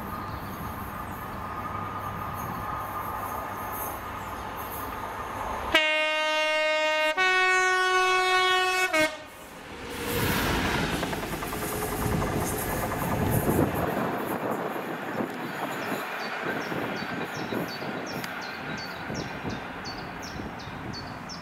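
Freightliner class 66 locomotive 66560 hauling a freight train at Howwood sounds a loud two-tone horn, then rumbles past close by with a long run of rolling wagons, with no talking.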